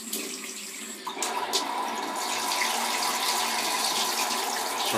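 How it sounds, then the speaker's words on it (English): Warm tap water pours steadily into a sink for rinsing a shaving brush, a loud continuous splashing that swells after a brief quieter start. "Just rinsing off with that warm water."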